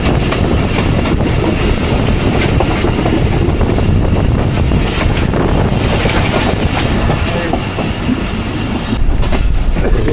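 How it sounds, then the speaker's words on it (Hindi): Awam Express passenger train rolling again after a halt, loud continuous rumble with rhythmic clickety-clack of wheels over rail joints, heard close from on board. "इसलिए ट्रेन रुकी थी और फिर दोबारा चल पड़ी है।"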